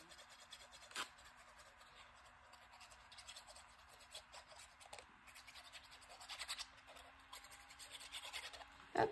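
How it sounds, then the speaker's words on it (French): Glue is spread inside a paper card tab, giving a faint, close rubbing and scratching as the applicator drags back and forth over the paper, with a few louder scrapes near the end. "je mets de la colle de partout"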